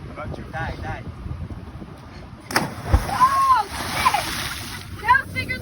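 A person cannonball-jumping into the sea off Punta Islita, Costa Rica, lands with a sudden loud splash midway, followed by churning water and wind buffeting the microphone, with people talking and shouting around it.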